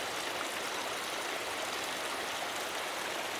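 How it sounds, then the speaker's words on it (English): Water running down a hiking trail at Vidette Meadow in the Sierra backcountry, a steady, close broadband rush and trickle like a small stream, constant and unbroken with no voices. "that's water coming down the trail"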